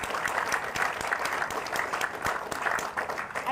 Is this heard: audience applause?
yes